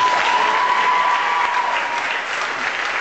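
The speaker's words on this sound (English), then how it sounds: "Can I have a small another round of applause for my mother" A stand-up comedy audience applauds loudly and steadily, a dense wash of clapping from a crowd that fills the room for about three seconds and tapers slightly at the end.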